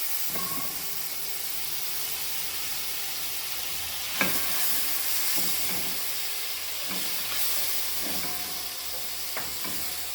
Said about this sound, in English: I'm adding some butter to my pot